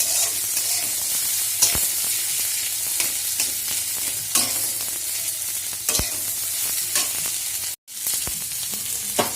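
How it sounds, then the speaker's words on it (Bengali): Onions sizzle and crackle steadily in hot oil in a pan, browning for a lentil dal with tomato, with a few sharper stirring clatters and a brief dropout near the end, no talking. "পেঁয়াজটা লাল লাল করে ভেজে নিচ্ছি।"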